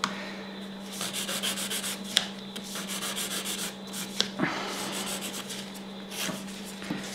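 Steady rubbing rasp of a nail file shaping a square fingernail, continuous back-and-forth strokes at close range with a few sharper scrapes, no talking.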